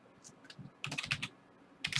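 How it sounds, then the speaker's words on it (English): Typing on a computer keyboard, a few scattered keystrokes followed by a quick cluster of clacking keys and a final short burst, close and fairly quiet. "So I'm going to type in"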